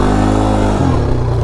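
Bajaj Pulsar NS200 motorcycle riding off-road on loose sand near casuarina trees, its engine droning loudly and close, holding a steady note before the pitch shifts partway through.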